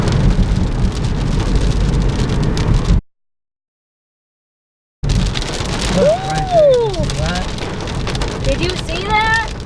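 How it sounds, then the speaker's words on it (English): A summer thunderstorm with heavy rain pouring steadily on surfaces and loud rolling thunder, close and intense, cut by a two-second gap of silence before the downpour resumes with more rumbling. "There's a lot of lightning and really loud thunder."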